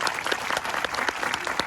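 A television studio audience applauds a comedy series cast with brisk, dense clapping, loud and close, steady for the whole short stretch with no voices over it.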